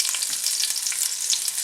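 Garlic dropped into hot light olive oil, a short burst of close, bright, steady sizzling and crackling with no voices.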